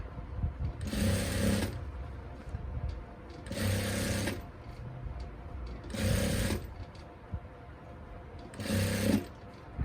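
Sewing machine stitching the corner of a salwar, running in four short bursts of rapid mechanical whirring separated by pauses, close and clear.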